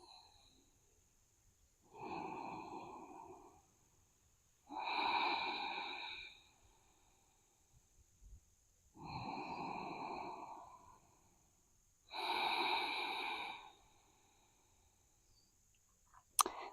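Four slow, deep breaths from a yoga practitioner during a vinyasa flow, each long exhale rising and fading at an even pace with quiet pauses between, close and clear with no talking.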